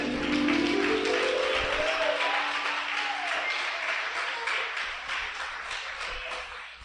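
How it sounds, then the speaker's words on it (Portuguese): A church congregation applauds in a dense, lively burst of many hands clapping, loud at first and gradually tapering, with faint musical tones underneath. "Vamos lá, palmas bem alegres para Jesus."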